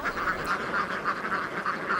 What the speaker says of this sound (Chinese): 偌大的海滩，6000只鸭子呼啸而来